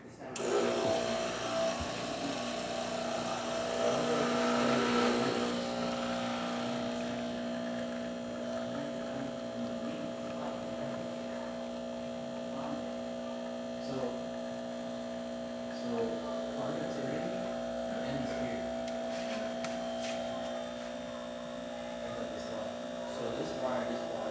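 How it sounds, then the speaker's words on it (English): A Pasquini Livia 90 espresso machine, serviced with a replaced water pump and flow meter, pulls a double shot with a steady droning pump hum that fades slightly after the first few seconds, with faint clicks over it. "Let's go ahead and test it and make an espresso shot."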